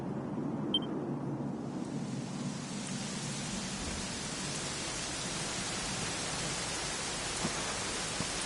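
Steady rain in the Dragon Quest XI video game, a soft, even hiss of falling water that holds constant throughout, alone and without voices.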